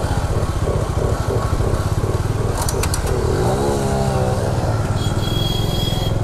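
A motorbike engine revs with a rough, pulsing drone, then pulls away loudly and steadily, close by and continuous with no talk over it.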